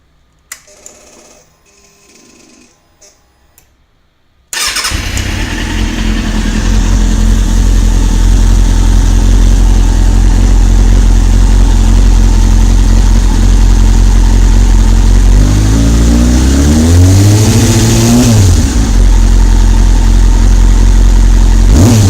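Following a few quiet clicks, a Kawasaki ZX-6R motorcycle engine catches and settles into a loud, steady, slightly fluctuating idle, with two rising-and-falling revs partway through.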